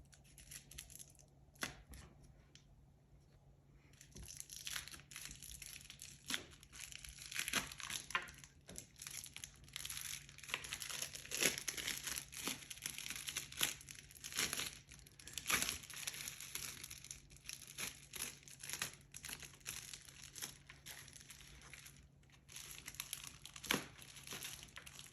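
Bubble wrap is peeled from the bottom of a homemade soap bar, giving soft, close crinkling and crackling with scattered sharper pops over about twenty seconds, quiet and without talk.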